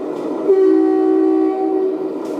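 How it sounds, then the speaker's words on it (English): A single steady horn blast from a Unitru 10x10 Mercedes RC heavy-haul truck sounds for about a second and a half, a loud sustained electronic honk that cuts in and stops cleanly. "we've got a really nice horn on this one"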